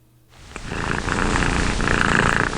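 A domestic cat purrs in a continuous, close, rumbling drone that fades in and then holds steady and loud without any voices.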